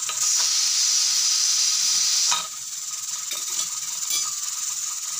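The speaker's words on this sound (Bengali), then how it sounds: "এই যে কুকারে সিটি লাগছে" A pressure cooker boiling amla lets out a loud, steady hissing whistle of steam that drops to a softer hiss midway, with no talk over it.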